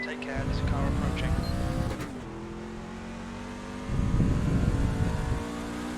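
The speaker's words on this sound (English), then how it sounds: "Take care, there's a car approaching." A race car in a racing video game played on a Thrustmaster TX Servo wheel, an engine drone that rises and falls, with a revving surge at the start and another approaching near the end, close and steady.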